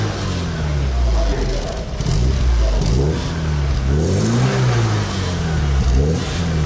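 A Porsche 944 revs at a classic car meet, its engine rising and falling in pitch through repeated throttle blips, loud and close against steady crowd and outdoor background noise.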